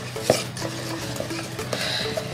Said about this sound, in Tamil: கலக்கிற வரைக்கும் பீட் பண்ண போதும்